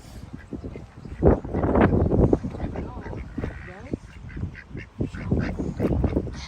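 A duck on a dairy farm honks and quacks repeatedly at close range while being fed corn, amid continuous background chatter and farm noise.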